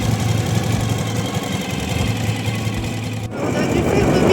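A Ural motorcycle engine rumbles steadily at a low idle close by, its tone shifting slightly near the end.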